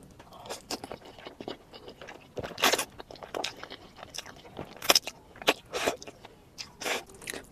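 Homemade cheese noodles being eaten up close: wet slurps, soft bites and chewing sounds come in irregular bursts, some sharp and loud, over a quiet room.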